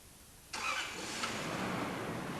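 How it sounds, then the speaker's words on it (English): A car engine cranks and catches abruptly, then settles into a steady running drone, heard alone during an engine control system troubleshooting check with the ignition on. "When the engine is started,"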